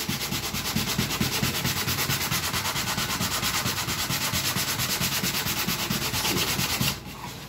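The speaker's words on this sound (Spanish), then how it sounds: "Se puede hacer así a mano, o con la lijadora" Metal rings are sanded in a workshop with a hand-held sander, giving a steady, rapid, even rasping rub that runs for about seven seconds before cutting off and fading to a quieter hum.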